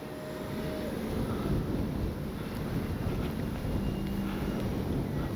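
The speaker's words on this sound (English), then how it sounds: "And the wind kicks up." Wind gusts buffet the microphone at an outdoor RC jet flying session with a twin-engine X-Fly J-65 model, a steady rushing blast that swells and dips without speech.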